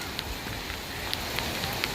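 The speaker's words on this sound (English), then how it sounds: "Even when it's rain out here. No sun, soaking wet." Steady, dense hiss of rain falling on a beach road in Pattaya, Thailand, with scattered closer drips and taps over a constant wash, no voices.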